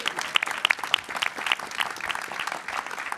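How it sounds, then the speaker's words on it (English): Audience applause at a student startup competition, a dense crowd of clapping hands with a few sharp individual claps standing out, steady and fairly close for about three seconds. "let's give them another round of applause"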